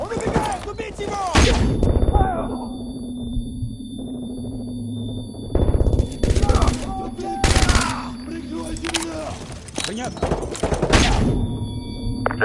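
Gunfire in the video game Modern Warfare 2, mission "Derniers détails": loud bursts of automatic shots and single cracks recur across the clip over a steady droning background, with speech at times.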